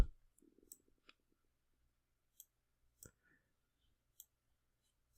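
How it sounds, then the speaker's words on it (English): Sharp computer mouse clicks, about six isolated taps spaced irregularly over a few seconds, close and crisp against near silence, with a faint low murmur early on. "I'm going to just click on shape"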